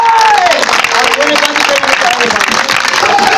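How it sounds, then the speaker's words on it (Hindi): A congregation at a healing crusade claps loudly, a dense continuous burst of applause under a leader's loud voice. "जोरदार ताली बजाकर परमेश्वर को महिमा दे।"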